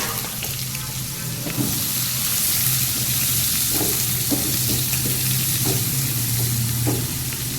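Green chillies and chopped onion sizzle in hot oil in a pan for a Kathiyawadi-style tempering: a steady hiss runs throughout, with a series of light spoon clicks and stirring scrapes in the second half.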